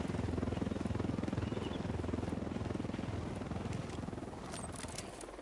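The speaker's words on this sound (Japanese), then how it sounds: "あ、ヘリ来てる、ヘリ来てる。" A helicopter approaches in the video game Ghost Recon Wildlands, its steady rotor thump fairly loud and continuous, easing slightly toward the end with no talk over it.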